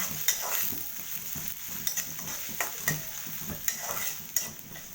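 Kalai greens are stir-fried in a pan, with a steady sizzle under repeated scraping strokes of a spatula against the metal, close and fairly loud, and no one speaking.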